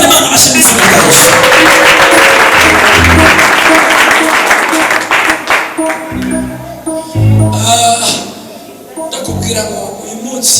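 Congregation clapping during a church service, a loud sustained burst of applause with voices and music mixed in that thins out in the later seconds.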